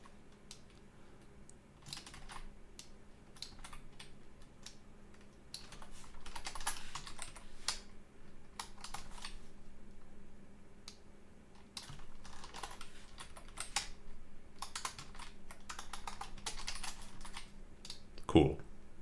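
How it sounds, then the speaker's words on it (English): Steady typing on a computer keyboard while a roguelike game is made in Godot, dense irregular key clicks running continuously at close range with a low steady hum beneath and one louder knock near the end. "Save my fingers from typing."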